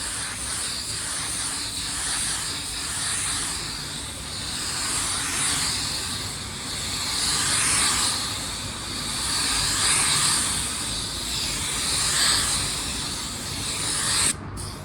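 A spray gun lays down automotive clear coat on a car panel with a continuous loud hiss that swells and fades slightly as the gun sweeps back and forth, with no talking.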